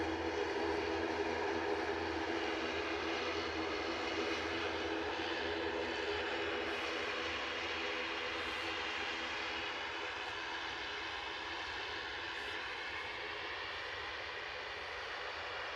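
Eastern Airways airliner on approach to Aberdeen airport, a steady broadband engine roar that holds at a fairly even level throughout, with no voices over it.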